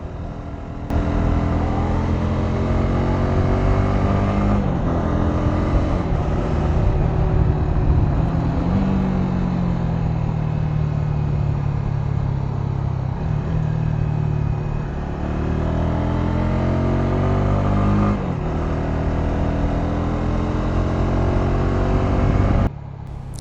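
A liquid-cooled Honda CB150X motorcycle engine drones steadily while riding, its pitch rising and falling with gear changes and throttle, close and continuous over wind noise.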